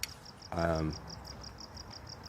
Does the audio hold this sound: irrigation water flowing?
no